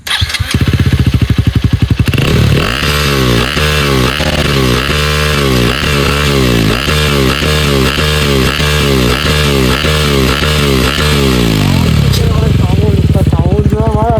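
A KTM Duke 250 Gen 3 with its stock exhaust starts, then idles with a loud, close, pulsing bassy thump that is blipped in repeated even revs before settling again.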